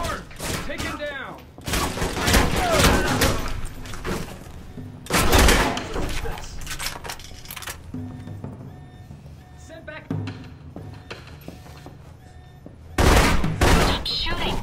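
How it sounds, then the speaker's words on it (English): A shootout in the game Alpha Protocol brings loud, repeated bursts of automatic gunfire and sharp impacts that come in several clusters, separated by quieter gaps with faint voices. "Shooting!"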